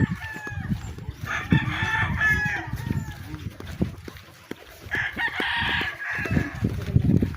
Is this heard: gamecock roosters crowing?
yes